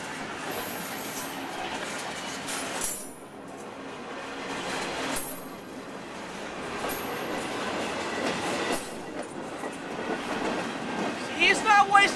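A Norfolk Southern freight train led by an SD70 locomotive rumbles steadily past nearby, with continuous rolling wheel noise and clattering cars, a few brief squeals, and people talking faintly over it.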